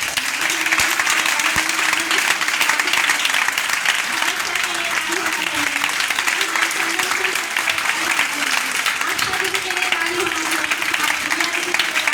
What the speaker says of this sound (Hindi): पहले तो हमारे सभी सीनियर सर के लिए और दीदी के लिए ताली होना चाहिए।